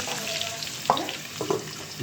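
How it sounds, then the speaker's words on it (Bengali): Onions fry in a little oil for kacchi biryani, giving a steady hiss with a couple of brief stirring scrapes in the pan. "হালকা তেল দিয়ে এটাকে ভাজানো হচ্ছে"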